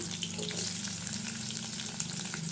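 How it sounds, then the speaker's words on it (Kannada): Onions with curry leaves frying in a pan, a dense continuous sizzle and crackle of hot oil up close, with occasional light stirring, and no talking. "ಈರುಳ್ಳಿನೂ ಕೂಡ ಗೋಲ್ಡನ್ ಬ್ರೌನ್ ಥರ ಆಗಲಿ ಫ್ರೈ ಮಾಡ್ಕೊಳ್ಳೋಣ"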